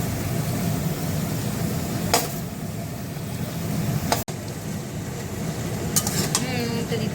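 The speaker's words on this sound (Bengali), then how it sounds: "এখানে হচ্ছে এখন পেঁয়াজ ভাজা, মাংস আর আলু ভেজে উঠিয়ে রেখেছে এইভাবে।" Onions sizzle in a pan under steady frying noise, with a few sharp metallic clinks and scrapes of a stirring spoon against the pan.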